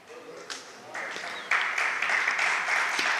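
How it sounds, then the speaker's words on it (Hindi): Audience applause during a Jain religious discourse on Saman Suttam, a broad wash of clapping that swells in steps and grows louder and denser toward the end, with no talk over it. "ये ताली तो आज ऐसी बजी,"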